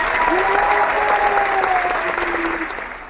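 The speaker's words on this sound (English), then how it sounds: "I'm going to give you a hand clap, too." Hands clapping in steady applause, dense and close, with a faint hum of talk underneath, fading slightly toward the end.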